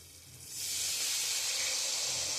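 Water poured into a pan of spice paste that has been fried until the oil separates, for an egg curry with yogurt, bursts into a loud, steady hiss and sizzle that begins abruptly and holds without pause.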